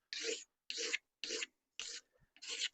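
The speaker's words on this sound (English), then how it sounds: "Just using the original handle, scraping off the grime" Scraping grime off an original wooden hatchet handle: five brisk, evenly paced rasping strokes with short gaps between them, close and fairly quiet, with no talking.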